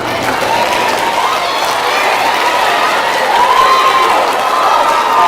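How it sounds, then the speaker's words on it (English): Eighth-grade middle school audience clapping and cheering in a school presentation, a loud, even roar of applause with some shouts throughout. "I'm glad you're clapping because that lets me know that you want to be the hero"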